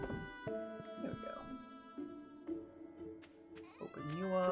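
A goat bleats over and over in Stardew Valley: clear, wavering cries repeat through the moment, close and loud, with soft game background underneath and no talking.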